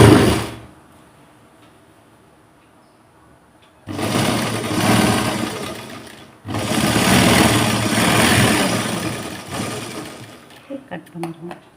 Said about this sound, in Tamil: திருப்பிட்டு இன்னொரு தையல் போட்டுருங்க.